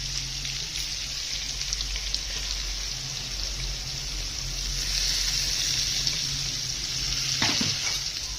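Crushed green chili paste frying in ghee with cumin seeds, a steady, even sizzle that holds throughout with faint stirring scrapes and no talk.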